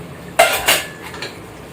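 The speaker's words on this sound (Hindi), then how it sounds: "देखो मैं ब्रश से साफ कर रही हूँ" Dishes, pots and pans being scrubbed with a brush while washing up, giving two loud clattering scrapes close by followed by lighter clinks, with no talking.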